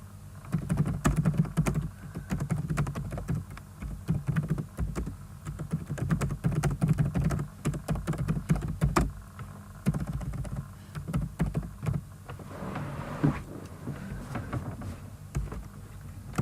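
Steady typing on a computer keyboard while working in celtx screenwriting software, a dense run of quick clicking keystrokes close up, continuing throughout with a brief lull near the end.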